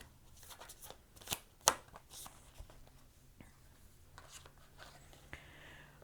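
Tarot cards are shuffled and drawn by hand, producing soft, close riffling and flicking bursts with a few sharper snaps, quiet and close with a faint background hum.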